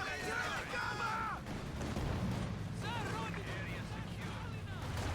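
An incendiary artillery barrage in Company of Heroes 2 rumbles with dense booms and crackling impacts, partly buried under game effects and a commentator talking throughout.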